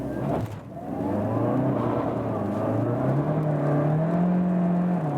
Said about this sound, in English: let's just show you a straight acceleration once more